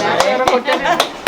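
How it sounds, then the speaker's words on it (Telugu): Several sharp hand claps ring out in an uneven rhythm at a family pre-wedding celebration for a young bride, each clap close and crisp over a steady murmur of voices. "clap clap clap sir"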